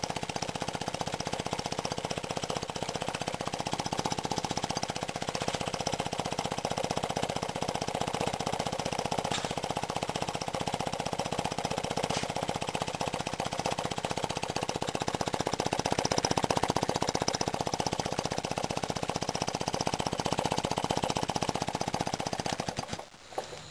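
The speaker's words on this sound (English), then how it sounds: "This little compressor here puts out a lot more air than my little Century powered PTC over there." A small 1/4 horsepower air compressor used as a tire pump runs steadily and loudly with a dense mechanical rattle, then cuts off near the end.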